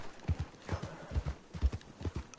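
Horse hooves clip-clopping in Red Dead Redemption 2, a steady quick rhythm of soft thuds at moderate distance, fairly quiet with no talk.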